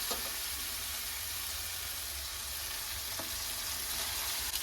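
Pasta being stirred into a fried tomato and capsicum masala in a pan, a dense continuous sizzle with a couple of faint utensil scrapes, close and even.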